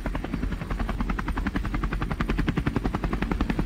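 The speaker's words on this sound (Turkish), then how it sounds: "kurtarmaya gelen bir helikopter" A rescue helicopter in the video game Kona II: Brume beats out a fast, even rotor chop, loud and close, continuing steadily with no voices.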